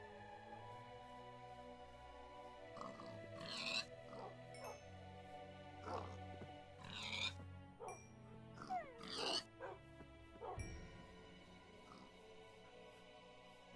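Pigs grunt and squeal in the game Minecraft, several short oinks scattered across the stretch, fairly quiet over a faint tonal background.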